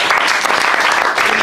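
Loud, dense congregational clapping at a French-language church service, a sustained, even burst of many hands close to the microphone.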